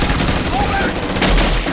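Gunfight gunfire from the action film Maximum Conviction: a dense, loud, continuous rattle of shots with a noisy, cluttered movie mix, steady for the whole stretch.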